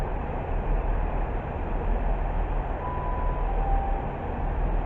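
A Great Western Railway train arriving at Reading station, a loud steady rumbling roar from close by with a faint brake squeal partway through, and no talking.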